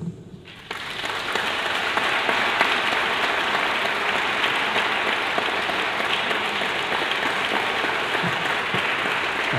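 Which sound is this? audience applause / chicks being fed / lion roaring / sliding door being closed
audience applause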